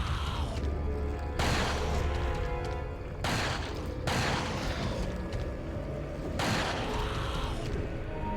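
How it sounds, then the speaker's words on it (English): Revolver gunfire in the video game Resident Evil 4, with three loud booming shots spaced a few seconds apart. Each blast carries a long, heavy reverberant tail over constant background game noise. "So the main thing here is to use the revolver."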